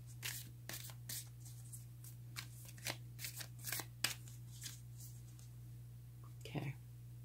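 Tarot cards being shuffled by hand in a quiet room, a series of soft, papery riffles and flicks at an uneven pace over a steady low hum.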